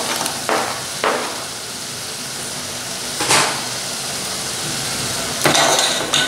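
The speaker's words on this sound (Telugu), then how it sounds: "ఇక ఇప్పుడు మనం సన్నగా కట్ చేసి పెట్టుకున్నటువంటి టమాటో ముక్కలను ఇందులో వేసుకోవాలి." Finely chopped tomato pieces for a vegetable curry with field beans fry in a pan with steady sizzling, broken by several sharp scraping clinks as a utensil stirs and knocks against the pan.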